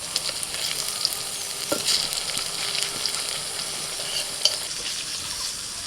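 Steady sizzling of fritters frying in oil, with soft crackles and occasional stirring scrapes, close and moderately loud.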